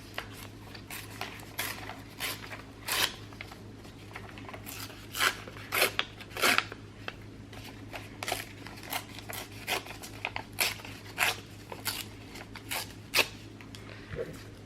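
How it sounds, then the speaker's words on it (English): Paper being ripped by hand to create aged, torn book-page edges for an art journal: a quiet, irregular series of short, crisp tearing bursts, with no one talking. "So going to rip my paper up"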